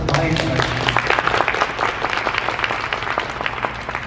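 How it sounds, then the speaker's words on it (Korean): An audience at a Korean business law seminar claps to welcome a speaker, dense, loud, sustained applause from a room full of people that carries on for the whole stretch. "뜨거운 박수로 환영해주시겠습니다"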